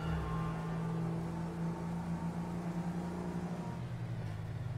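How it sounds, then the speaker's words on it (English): A car engine in the video game GTA V drones steadily as the car drives along, holding a constant low hum with slight rises and no speech. "Okay, let's drive. Let's go on to the highway."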